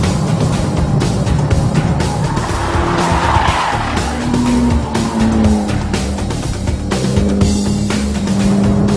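A Mitsubishi Evo X on sticky Toyo tyres corners hard, its tyres squealing loudly and continuously over a droning engine, with shifting pitched whines as the car pushes through the turn.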